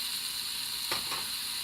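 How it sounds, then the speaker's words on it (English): Chopped onions land in a hot Instant Pot. A brief soft clatter cuts across a steady, loud hissing sizzle. "So now I'm going to dump in the onions,"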